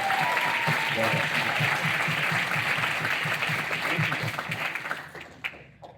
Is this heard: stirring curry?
no